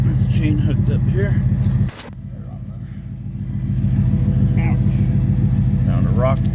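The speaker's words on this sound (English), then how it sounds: "Getting this chain hooked up here." A tow truck's engine idles in a steady, loud rumble while metal chain links clink and jangle in short bursts as the chain is hooked up close by.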